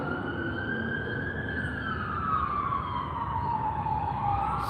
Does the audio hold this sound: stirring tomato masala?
no